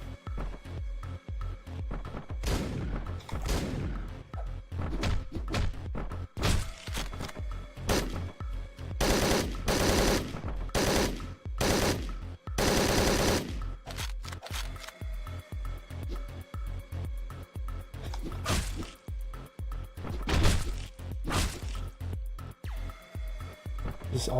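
Gunfire in the top-down shooter Hotline Miami 2: Wrong Number: dense, loud bursts of rapid shots and fusillades run throughout, with clusters of sharp cracks layered over driving game music and no talk.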